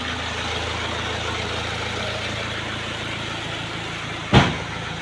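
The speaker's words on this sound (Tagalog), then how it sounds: "Yun ang makina niya guys, napaka sariwa yan." A Toyota Hiace van engine idles nearby with a steady, even low rumble, interrupted near the end by a single sharp knock or thump.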